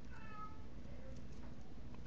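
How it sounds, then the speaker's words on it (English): Male house cat howling to be let outside, faint drawn-out meows early on over a steady low room hum, distant and quiet. "I don't know if you can hear Kitty howling"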